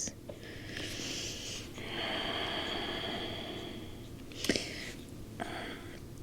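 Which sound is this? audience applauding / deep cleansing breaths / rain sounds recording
deep cleansing breaths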